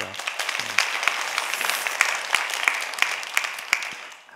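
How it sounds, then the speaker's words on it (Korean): Members of a church congregation applaud during a service, a moderate wash of clapping with a few sharp individual claps standing out, fading toward the end. "박수 한번 해주셔요"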